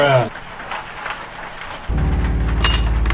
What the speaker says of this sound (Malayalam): പുറത്തെല്ലാം മഴ പെയ്യുന്നുണ്ട്